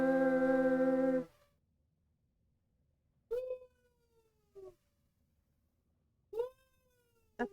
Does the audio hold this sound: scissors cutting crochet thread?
no